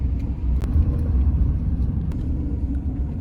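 Steady low rumble of trucks and other vehicles passing on a road near the Italy–France border, continuous and fairly close, with a couple of brief sharp clicks and no voices.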